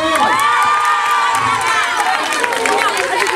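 A crowd of primary-school pupils at a school event in Kaolack cheers and shouts loudly in a burst of excited, overlapping voices, close and filling the short moment.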